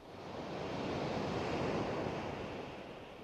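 Sea waves roll onto the shore along the Jindo coast, one broad surge of surf swelling and fading over a few seconds, loud and close with wind-like hiss and no voices.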